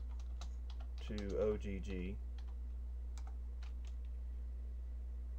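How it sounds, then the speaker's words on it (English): Keys clatter on a computer keyboard in light, scattered bursts of close clicks, with a short stretch of someone speaking in between. "And then in Google, just type wave"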